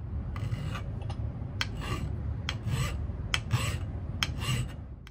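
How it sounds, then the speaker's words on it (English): A hand file smooths a part for a Briley oversized bolt release on a Winchester SX4 shotgun, giving a series of close, rhythmic rasping strokes, about a dozen back-and-forth passes over a low steady hum. "So let me get to filing this smooth and then we'll get back to the next couple steps."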